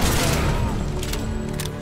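Gunfire in the video game Tomb Raider (2013) comes as a brief, dense, loud burst of overlapping shots that roars continuously for about two seconds.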